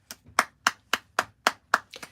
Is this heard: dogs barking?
no